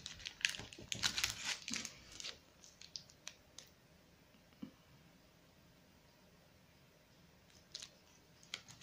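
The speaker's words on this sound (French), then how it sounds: "Un petit bout de scotch." Small piece of adhesive tape torn from a roll and pressed down, a quick burst of crinkly tearing and rustling up close, then sparse faint ticks and handling noises in quiet.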